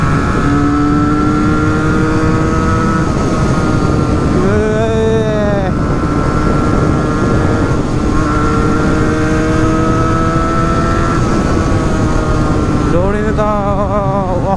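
A revving motorcycle engine runs steadily throughout, its pitch rising and falling as it accelerates, with a voice talking over it.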